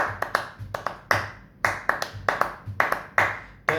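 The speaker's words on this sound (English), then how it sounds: "I'm clapping the rhythm" Hands clap out a strumming rhythm, about a dozen sharp claps in an uneven pattern, close and clear, with no talking.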